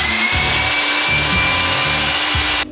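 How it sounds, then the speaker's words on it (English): Metal cutting drill boring a hole in an Airstream trailer frame, a loud close whine with pulsing grinding bursts as the bit bites, cutting off abruptly at the end. "That is just like moving really fast for a metal cutting drill."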